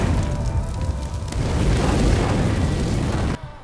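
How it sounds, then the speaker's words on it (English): Molotov cocktail thrown onto B short on the Mirage map in CS:GO, a loud sustained whooshing roar of flames over about three seconds that cuts off abruptly, heard alone without talk. "The molotov bounces off the skybox here and down into B short."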